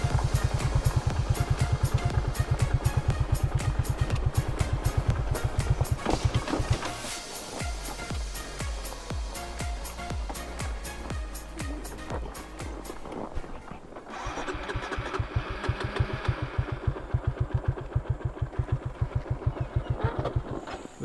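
A motorcycle engine idling on a gravel road in a Papuan forest after its throttle cable snapped: a steady, close, rapid putter with a brief dip midway, continuous and alone, with no one talking.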